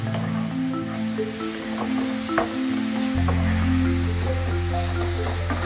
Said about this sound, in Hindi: फ्लेम को मैंने लो कर दिया है ताकि मसाला जले नहीं। इसको हम 1-2 मिनट तक भूनते हैं।